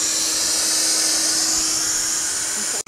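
A vacuum cleaner powers a homemade breathing assist machine, giving a steady, loud, high-pitched whine and airy rush that runs unchanged and then cuts off abruptly at the end.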